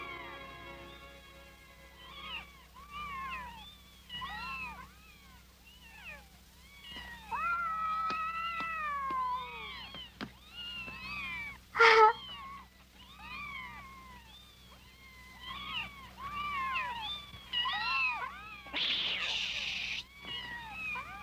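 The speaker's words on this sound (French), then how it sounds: "Des chatons." Kittens meowing repeatedly, several thin, high, overlapping mews in quick succession, close by and fairly quiet, with a brief sharper cry near the middle.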